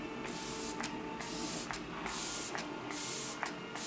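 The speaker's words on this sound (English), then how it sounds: "I'm just gonna use this facial spray from Olay." An Olay Ultimate Hydration Essence Vitamin C and Bergamot facial mist spray bottle spritzing: a run of short, hissing bursts in a steady rhythm, close and fairly loud.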